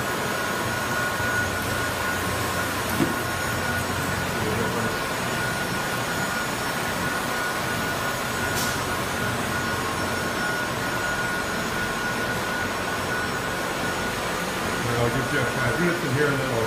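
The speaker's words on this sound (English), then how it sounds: "Now we're getting ready to burnish the floor." Floor grinder fitted with 1500 grit diamonds burnishing a polished concrete floor, a steady loud broadband whine and roar that drones on without a break, with faint voices underneath.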